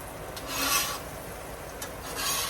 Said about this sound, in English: Sorry for the scraping sound.